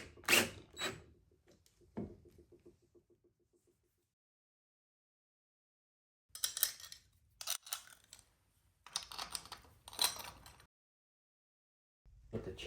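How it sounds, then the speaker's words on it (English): Trimming a universal plastic chain slide on a pink dirt bike, heard as sharp clicking and scraping cuts in two clusters, first a few quick snips, then after a pause several dense bursts, close and fairly quiet. "This universal chain slide just needs a little bit of trimming."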